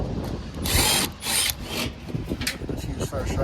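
Bursts of a handheld power drill, several short whirring runs of rising and falling intensity, at close range during HVAC repair work on a Carrier furnace.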